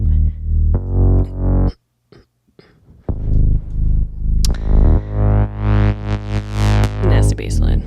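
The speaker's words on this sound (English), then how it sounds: "This bass here is a UAD Mini Moog VST that I am obsessed with." A gritty UAD Mini Moog VST synth bass line pumps rhythmically under sidechain compression, loud and distorted, with a brief near-silent gap before the line returns with rising, buzzy harmonics.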